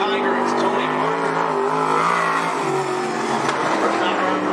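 At Cottage Grove Speedway, the Stetson-powered Lightning chassis race car called the Tiger drones with a loud, sustained engine roar whose pitch rises and falls, while an announcer talks over it.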